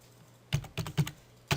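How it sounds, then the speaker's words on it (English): Keys on a computer keyboard are struck in a short burst of a handful of crisp taps, close and clear after a moment of quiet. "I'm going to type in the command line"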